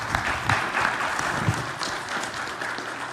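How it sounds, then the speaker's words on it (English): An audience applauds at an evening photojournalism talk, a dense and even wash of many hands clapping that holds steady for a few seconds with no voices over it. "Let's give a round of applause to Rob for joining us tonight."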